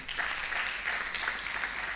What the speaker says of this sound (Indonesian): Boleh tepuk tangan bagi Tuhan kita.